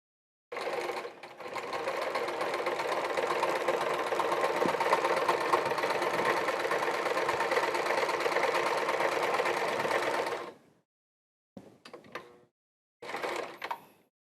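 Sewing machine running a long parallel stitch down the leg of leather chaps, a steady loud whir for about ten seconds, then a few short bursts after a pause.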